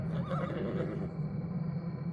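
A horse whinnies close by, a loud wavering neigh that fades out over about a second, followed by a quieter low rumble.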